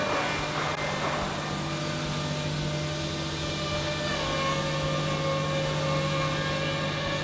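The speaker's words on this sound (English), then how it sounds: "the SCM edge binding machine" An SCM edge binding machine feeding tape onto laminate edges in a furniture factory runs with a steady, loud mechanical drone and a constant hum with no pauses. No one speaks.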